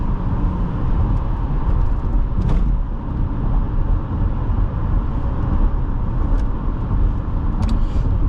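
A 2005 Honda CR-V EX cruising on the highway, heard from inside the cabin as a steady, loud low engine and road drone with tire roar and a few faint brief clicks, with no talk.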